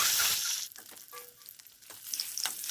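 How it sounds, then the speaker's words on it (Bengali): Eggs coated in salt and turmeric fry in hot oil in a wok, giving a loud, steady sizzle that eases in the middle and swells again toward the end. "এর মধ্যে আমি নুন হলুদ মেখে ডিমগুলোকে একটু সময় ভেজে নেব।"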